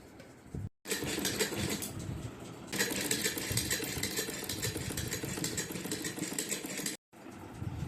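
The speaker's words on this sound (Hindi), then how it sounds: "और अब हम सिलाई लगाते हैं।" A sewing machine stitches a small Laddu Gopal dress at home, running in a fast, steady mechanical whir that stops and restarts twice, close and fairly loud with no talk.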